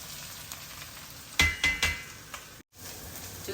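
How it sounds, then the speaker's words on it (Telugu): Broccoli and other vegetables for upma frying in a pan, a soft steady sizzle broken by three quick stirring scrapes and a brief dropout before the sizzle resumes. "చూసారా మన బ్రోక్లీ ఎంత చక్కగా మంచిగా ఫ్రై అవుతూ ఉడుకుతూ ఉన్నాయి కదా"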